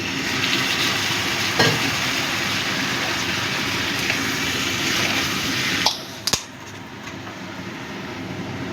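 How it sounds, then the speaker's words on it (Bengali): Steady sizzling of a hot pan of prawn malai curry fills the clip, a broad frying hiss with a brief splash-like burst near the end as water hits the pan, followed by a softer simmer. "এবার একটু জল দিয়ে দিচ্ছি।"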